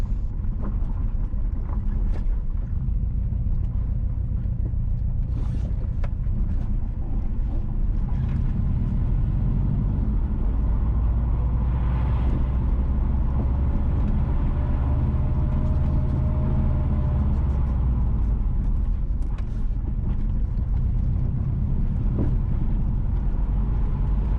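A car drives north along a rural road in St James, Jamaica, heard from inside as a steady, close rumble of engine and road noise with wind buffeting, and no talking.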